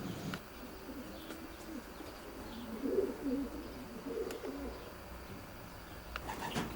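Racing pigeons in an open-door-trapping loft with three sections, soft distant cooing and faint chirps over quiet background noise, no talking.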